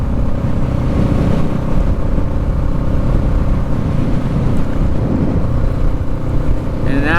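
A motorcycle rides along a city road with a loud, steady engine drone and wind rumble close to the microphone, holding an even level throughout, with a brief higher whine near the end.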